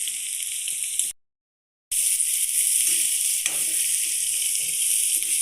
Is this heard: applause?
no